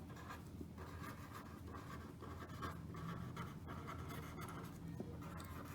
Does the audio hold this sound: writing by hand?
yes